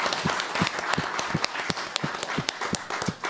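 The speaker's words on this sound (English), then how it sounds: "Give her a hand of applause, Suzan Aref." Applause after a talk on Europe and returning foreign fighters, a modest group clapping with a few distinct louder claps standing out, moderately close and uneven.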